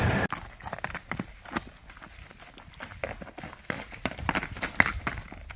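Hooves of a 12-year-old Tennessee Walking Horse gelding walking on hard ground under a rider, a steady uneven clip-clop of close footfalls with some faint background noise.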